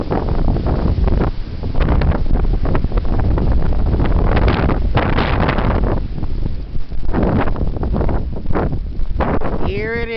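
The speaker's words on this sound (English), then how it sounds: "Man, it's getting way windy out here." Strong, cold wind buffets the microphone outdoors in a steady roaring rush with gusty surges throughout, while someone talks over it.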